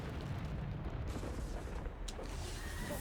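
A Bombarda explosion spell goes off in Hogwarts Legacy combat: a low, rumbling boom with a roaring, eruptive wash of noise, sustained and fairly quiet, with a couple of faint crackling pops.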